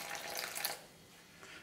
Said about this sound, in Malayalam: ഇതിലേക്ക് കുറേശ്ശെ വെള്ളം ഒഴിച്ച് കൊടുക്കുക